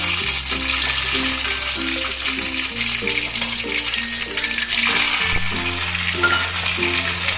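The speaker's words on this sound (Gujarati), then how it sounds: "લીમડા કળી પત્તા નાખ્યા છે, પછી લીલા મરચાં નાખ્યા છે।" Curry leaves and green chilies sizzle steadily in hot oil over a low gas flame for dhokla, a continuous loud frying hiss under soft background music, with no voices.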